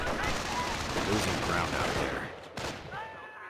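Machine gun firing during a match of a WWII strategy video game, rapid bursts of gunfire and distant battle noise rolling on, fading briefly near the end, with a commentator's voice faintly underneath.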